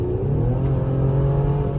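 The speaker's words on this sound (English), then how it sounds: "we're driving this GL 450. It's an AMG package." Inside a Mercedes GL 450 SUV with the AMG package, the engine hums in a low, steady drone while driving, with road rumble underneath and no talking.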